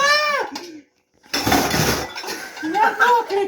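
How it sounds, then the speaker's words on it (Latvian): A pot lid falls in a home kitchen, giving one sharp, bright clattering crash after a brief hush, with people talking just before and after it. "Tur, krīt vāks!"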